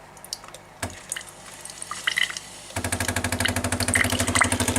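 A Tassimo T40 Fidelia coffee maker starts pumping after a couple of faint clicks, breaking into a rapid, rhythmic mechanical pulsing with a watery gurgle, close and steady until the end.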